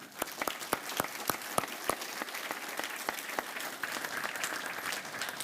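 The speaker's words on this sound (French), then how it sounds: "On peut les applaudir." A church congregation at a Sunday service claps for baptism candidates, a moderate round of applause that starts with distinct individual claps and thickens into a steady patter.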